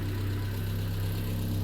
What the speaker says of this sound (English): Engine sounds absolutely sweet.